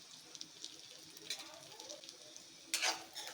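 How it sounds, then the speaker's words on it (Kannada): Chopped onions and a pinch of asafoetida frying in a pan, giving a soft, faint sizzle broken by a few stirring scrapes and one louder burst of sizzling near the end. "ತುಂಬ ಕೆಂಪು ಫ್ರೈ ಮಾಡ್ಕೋಬಾರ್ದು, ಸ್ವಲ್ಪ ಪಿಂಕ್ ಕಲರ್ ಬರೋವರೆಗೂ ಫ್ರೈ ಮಾಡ್ಕೋಬೇಕು ಈರುಳ್ಳಿ"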